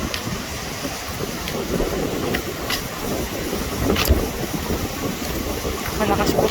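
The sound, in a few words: strong wind blowing outdoors at a lake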